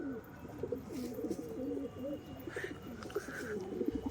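Pigeons, a white one among them, coo in a steady run of low, rounded rolling calls close by, carrying on with brief higher squeaks mixed in.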